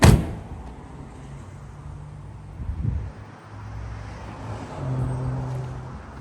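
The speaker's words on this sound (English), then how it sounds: "Shut these doors up here." A door on a 1999 Airstream B190 Class B motorhome slams shut with a sharp thud at the start, followed by a second softer thump amid quiet wind and ambient noise.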